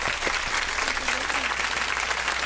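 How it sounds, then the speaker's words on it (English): A studio audience claps steadily to welcome a guest on a talk radio show, a soft, even wash of applause that holds for a couple of seconds. "Let me give you a welcome round of applause."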